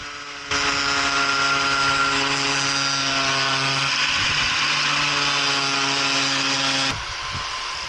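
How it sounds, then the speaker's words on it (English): Power tool cutting an extra piece of fiberglass while an XPS outrigger float is built, a loud steady whining buzz that starts abruptly, runs about six seconds and cuts off, close by. "Cutting extra piece of fiberglass."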